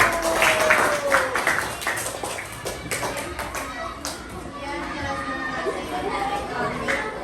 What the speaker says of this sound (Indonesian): Berarti kita kasih tepuk tangan untuk kelompok biru.